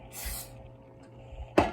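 Two short bursts of canola oil cooking spray, one at the start and one near the end, hissing close up and loud against a quiet kitchen background.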